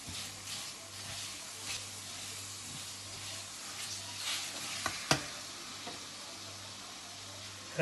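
Lime pieces frying and being stirred in a pan for instant lime pickle, a steady sizzle with soft scraping stirs, a low hum beneath and one sharp clink near the end.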